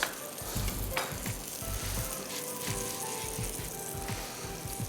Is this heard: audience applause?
no